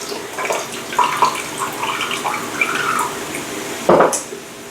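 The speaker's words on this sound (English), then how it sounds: "So what I'm just going to be doing is dumping the pineapple juice from my home canned pineapple." Pineapple juice from a home-canned jar glugs and splashes as it is poured out in uneven bursts, with a louder splash near the end and no talking.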